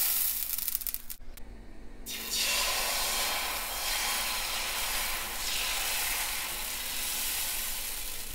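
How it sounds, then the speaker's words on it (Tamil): Dosa batter mixed with chopped vegetables hits a hot pan and bursts into a loud, steady sizzle that carries on without a break after a short clatter at the start. "இப்போ வாங்க தோசை ஊற்றலாம்."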